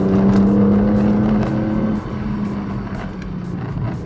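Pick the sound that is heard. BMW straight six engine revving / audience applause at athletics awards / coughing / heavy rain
BMW straight six engine revving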